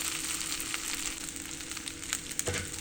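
Cabbage muthiya pieces sauté in a hot pan, a steady close sizzle and frying crackle with a few soft stirring scrapes throughout.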